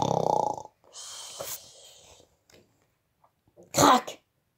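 Snoring sounds for three pigs in a children's story, voiced by a person imitating the noise: a long nasal snore, a drawn-out rasping breath, then a sharp snorting burst, close and clear.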